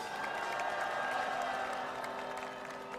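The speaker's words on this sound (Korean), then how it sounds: "다시 한번 큰 박수 보내주십시오." Crowd at a Korean candlelight rally applauding steadily for about three seconds, a dense wash of clapping with faint cheering mixed in, fairly distant and even in level.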